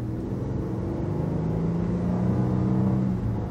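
A 2018 Lexus LS 500 Sport accelerates steadily, its engine note holding a continuous mid-level drone with rising harmonic tones, heard close and without talk for a few seconds.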